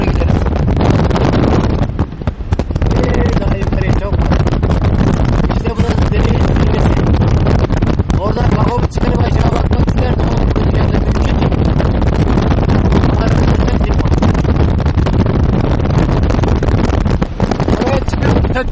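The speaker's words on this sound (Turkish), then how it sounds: "Rüzgarı duyuyorsunuzdur herhalde." Strong wind roars continuously into the microphone, a loud buffeting rumble that masks most other sound throughout.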